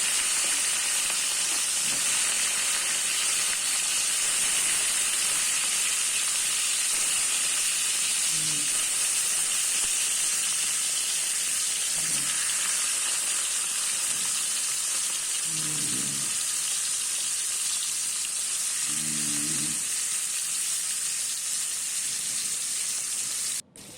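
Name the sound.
fish frying lightly in oil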